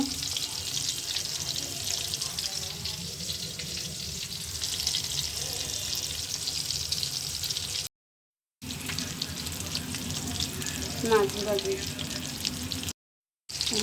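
Rohu fish frying in a pan, a steady hiss and sizzle with faint stirring and water sounds, broken by two brief silent gaps.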